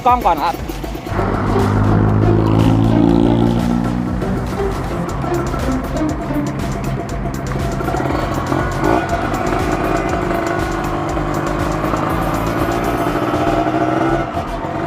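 Kawasaki KR150 two-stroke motorcycle being ridden, loud and close, its engine revving up through rising and falling pitch sweeps, with a voice talking over it at the start.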